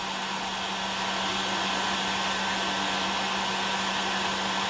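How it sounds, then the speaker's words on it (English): A heat gun blows hot air onto heat shrink tubing on an arrow rest, making a constant loud, close airy roar with a steady motor hum and no pauses. "Go with the heat gun and start getting this to shrink down."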